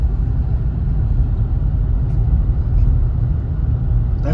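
Car driving through downtown Pawhuska, Oklahoma, heard from inside as a steady low rumble of engine and road noise, with no talk.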